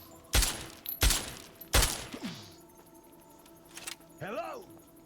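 Three loud, close gunshots crack out at a steady pace in Fallout 3, each with a short echoing tail. A fourth fainter shot follows, then a brief voice or creature sound.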